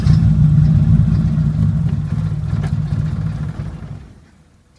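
A 1980 Chevy Luv pickup engine with a suspected electronic carburetor fault runs close to idle, a steady low rumble with slight unevenness that fades out toward the end.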